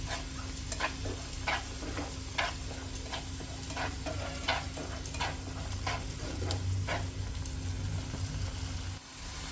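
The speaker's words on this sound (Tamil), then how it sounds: "இப்போ டொமேட்டோ பாருங்கள் நல்லா வதங்கி வருது." Tomato puree sautéing in a pan for an Indian veg kola puri dish, giving a continuous soft sizzle dotted with frequent small crackles and pops, close and steady, with no voices.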